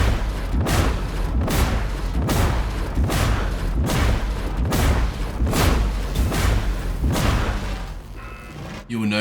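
Plasma gun fired in the video game Darktide, about ten heavy booming shots in a steady rhythm roughly a second apart, loud and close, followed by a brief mechanical whir at the end.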